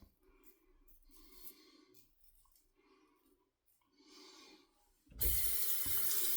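A bathroom tap turns on suddenly and runs loudly for rinsing a Razorock safety razor, after several seconds of quiet rubbing and handling sounds.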